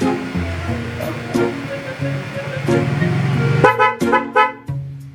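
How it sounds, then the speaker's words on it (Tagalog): Background engine rumble and voices, then a newly installed MOCC car horn being tested gives several short honks in quick succession, loud and close. "detestingin naman natin siya kung talagang accurate ba yung busina natin"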